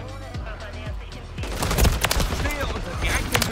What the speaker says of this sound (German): Feindbeschuss!